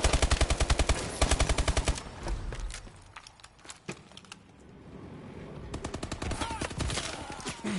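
Rapid automatic gunfire rattles in bursts in a multiplayer shooter game, loud and close, separated by a quieter stretch of scattered single shots and movement before another long burst.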